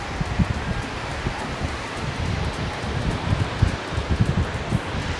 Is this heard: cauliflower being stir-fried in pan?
no